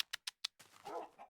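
Minecraft dogs give four quick, sharp yips, followed by a soft, low whimpering whine, faint and close together within about a second.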